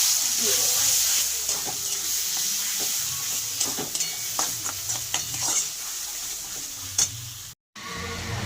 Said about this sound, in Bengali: হাফ চামচ হিং হিং ফোড়ন দিয়ে দিলাম এবার আমি মটরশুঁটিগুলো এর ভিতরে দিয়ে